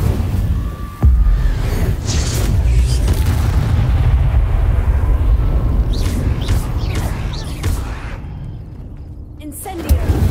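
Incendio fire spell being cast in Hogwarts Legacy on PS5, a sudden booming burst followed by a sustained roaring, rumbling rush of flame and crackle that fades toward the end.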